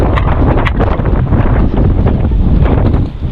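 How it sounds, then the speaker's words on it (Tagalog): Strong monsoon wind buffets the microphone in loud, continuous rumbling gusts, close and overpowering for a few seconds. "lakas ng hangin na ito"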